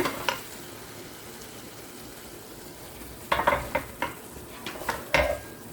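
Fish cake stir-fried in a pan over low heat with mild chili flakes, a soft continuous sizzle with the spatula scraping and clinking against the pan in several sharp bursts toward the end.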